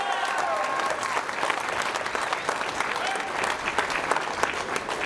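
Crowd applauding at an outdoor May Day rally in Liège, steady dense clapping sustained throughout with some scattered cheering mixed in.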